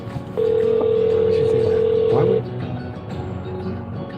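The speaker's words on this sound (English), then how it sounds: "Once it rings this many times, that means that they're probably just coming to the door" Outgoing phone call with a loud, steady ringback tone held for about two seconds against faint background noise, after which the line goes quiet.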